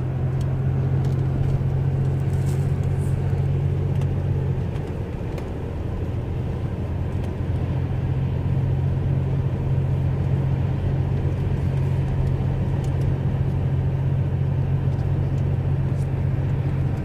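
A steady low engine hum drones inside a moving 1987 BMW 735i E32, with a brief dip midway and faint road noise throughout; no one speaks.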